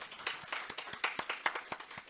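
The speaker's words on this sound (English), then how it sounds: "a round of applause" A small audience claps in a sparse, uneven patter of about a dozen distinct handclaps over two seconds, close by and fairly quiet.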